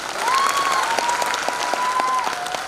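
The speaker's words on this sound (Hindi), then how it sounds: "जोरदार तालियां" An audience at an outdoor corps day celebration claps enthusiastically for a singer, steady crowd applause with a sustained whistle-like tone running over it.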